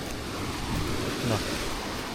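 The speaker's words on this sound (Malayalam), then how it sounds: "തിര വന്നിട്ട് തിരമാലകൾ വന്നിട്ട് അടിക്കും" A continuous roar of ocean surf washes against the rocky shore at Kannur, with wind buffeting the microphone throughout.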